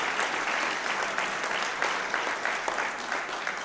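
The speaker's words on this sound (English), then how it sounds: "So give yourselves a round of applause" A room of tourism partners and guests at a World Tourism Day event in Aruba applauds steadily, a dense, even wash of clapping from a moderate distance, with no voices over it.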